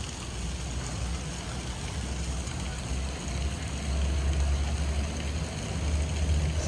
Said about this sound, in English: So this one here is a 2000 Doppelmayr Gondola.